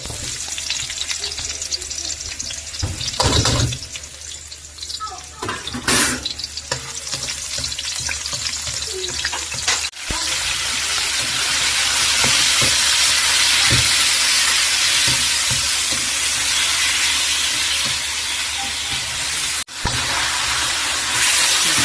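Ingredients for miki noodles sauté in a hot pan with a loud, continuous frying hiss that swells fuller in the second half, punctuated by clanks and scrapes of stirring.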